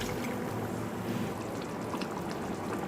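About a cup of water pours steadily into a pan of chicken gravy made with cashew paste, giving a continuous, even, close rushing splash with no talking.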